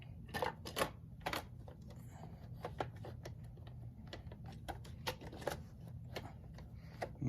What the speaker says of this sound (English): you have to hook them into the front and then snap them into the back